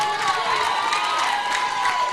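Audience clapping and cheering at a school event, a dense continuous wash of applause with crowd shouts rising through it, steady and fairly loud throughout.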